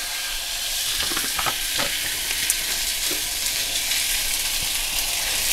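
A thick fresh tuna steak sizzles steadily in a hot pan with a loud, dense frying hiss and a few soft clicks over it.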